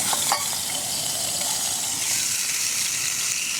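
Food sizzles and spits in a hot pan right after being flipped outdoors in woodland, a steady close crackling hiss with a few sharper pops at the start.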